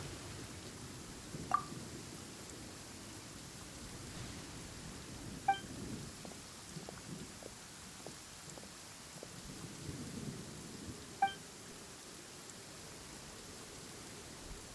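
Thunder rumbles through a rainy cutscene in Genshin Impact, with a steady wash of rain and several sharp cracks and distant rolling booms spread across the scene.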